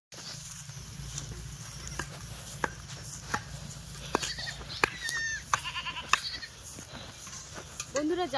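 Goats bleat in quick, repeated wavering cries near the end, over low background rumble and scattered taps at a rural home.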